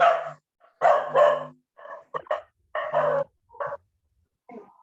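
Dog barking indoors in a room during a lecture, a series of loud, close barks in several bursts with short pauses between them.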